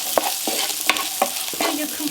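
Fish pie filling frying in a pan, a steady bright sizzle under repeated scraping stirs of a utensil, close and fairly loud with no talking.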